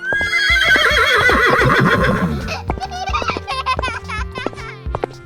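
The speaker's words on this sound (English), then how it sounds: "A horse runs fast and says, "Neigh, neigh."" A loud, close horse whinny rises and trembles downward, followed by softer snorts and chuffing breaths.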